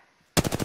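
Rapid automatic gunfire in the shooter game Apex Legends, a loud close burst of about five quick shots that starts abruptly after a near-silent moment.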